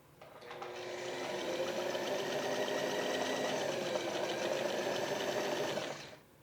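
A sewing machine hemming an ironing board cover, whirring steadily and fairly close for about five seconds, with a smooth ramp up at the start and a wind down at the end, and no talking.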